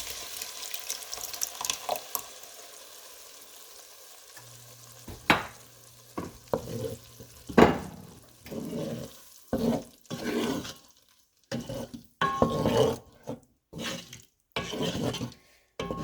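Mussels sizzle and fry in a pan, with intermittent stirring and scraping sounds that come in bursts and stop between them; no talking.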